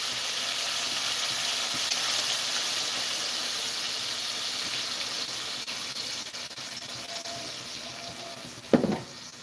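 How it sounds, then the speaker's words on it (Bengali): Water poured into a pan of frying potato curry sets off a steady, broad hiss of sizzling that fades slowly over several seconds, ending with a short clatter near the close. "আর সেই ঝোলের জন্য এবার পানিটা দিব।"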